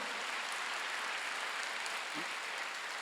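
Church congregation applauding during a Sunday worship service, a steady wash of many hands clapping at moderate level throughout, with no talk over it.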